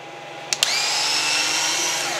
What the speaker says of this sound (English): We also have to remove these two fasteners here.